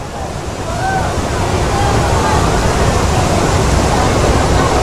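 Floodwater rushes through a flooded district of Pidie Jaya, Aceh, where residents and police haul motorbikes from the current: a steady, loud, broadband roar of moving water, constant and close, with no distinct breaks.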